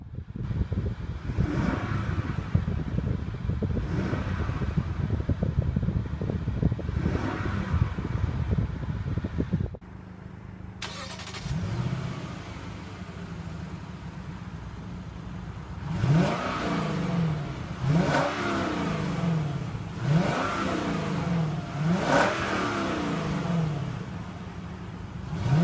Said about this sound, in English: Let's go ahead and give it a few revs here.